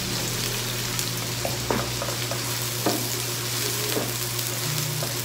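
Garlic and onion sautéing in a hot pan, a steady close sizzle with scattered crackles and light stirring clicks.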